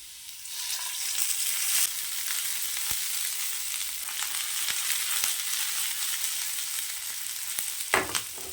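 Small onions sizzling in hot oil for a chickpea channa masala, a steady bright crackle throughout with a few faint spoon clicks and one sharper scrape near the end, no voices.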